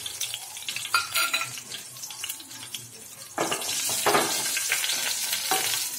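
Green chillies sizzle loudly in hot oil in a pan as they are stirred in while cooking dal, with crackling bursts and scraping stir sounds, close and continuous, no talking.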